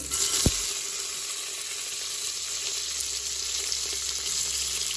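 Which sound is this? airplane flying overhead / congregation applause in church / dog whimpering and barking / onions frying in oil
onions frying in oil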